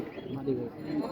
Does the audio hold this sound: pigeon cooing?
yes